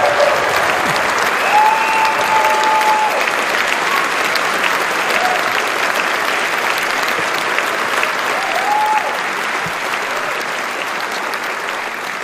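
Sustained applause and cheering from a large audience at an awards gala, honoring a K2 climber named Dorji as he is called to the stage; dense, steady clapping that stays loud throughout, easing slightly near the end.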